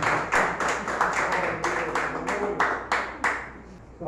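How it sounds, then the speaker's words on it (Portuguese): Church congregation clapping during a service, a series of about a dozen distinct, fairly loud hand claps in a loose rhythm that thin out and fade toward the end, with faint voices underneath. "dê uma forte oferta de aplauso ao Senhor."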